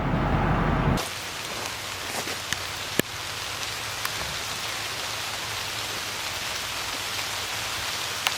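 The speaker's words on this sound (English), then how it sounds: "Well, it's raining out again," Steady outdoor rainfall by a river, a dense even hiss of drops on surfaces with a few sharper isolated drips, heard alone after a brief louder noise at the start.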